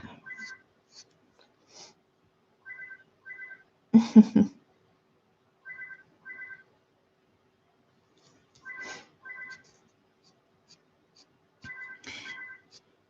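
An indoor telephone rings in repeated double bursts, several times with pauses between, clear against an otherwise quiet room, with a brief knock or clatter partway through.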